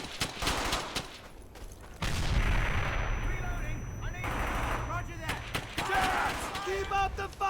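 Gunfire from a World War II squad battle in the game Brothers in Arms: Hell's Highway, with repeated shots and heavy bursts rolling through the whole stretch while someone talks and shouted orders break in over the fighting.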